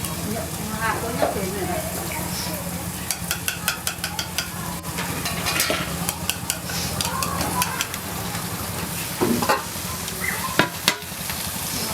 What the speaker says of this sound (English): Then she stirs the egg into the wok.